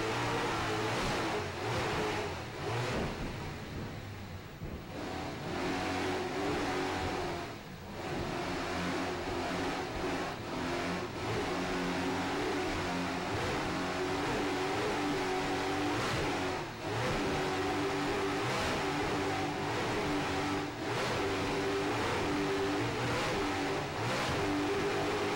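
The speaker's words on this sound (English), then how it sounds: "Hear those Mercury Super Cat engines screaming along there, going head north up the beach in St. Petersburg." Mercury Super Cat racing boat engines screaming up the beach off St. Petersburg, a sustained loud roar with shifting pitch as the boats pass, continuous and without talk.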